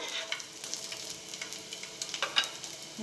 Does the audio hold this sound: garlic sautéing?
yes